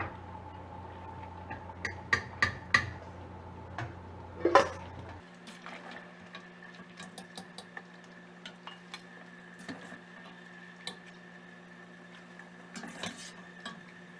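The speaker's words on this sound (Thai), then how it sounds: "จากนั้นก็ให้เพื่อนๆตักตะไคร้แล้วก็ใบเตยออกมาให้หมดนะคะ" Lemongrass stalks and pandan leaves being scooped out of a pot of herbal water, with a few clinks and scrapes of a utensil against the pot over a steady low hum, clustered early and then scattered and sparse.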